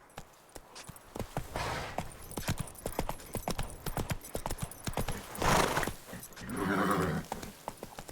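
Roach the horse trotting in The Witcher 3, steady close hoof clip-clops throughout with two louder snorting or whinny-like bursts, and a voice talking briefly over the hooves.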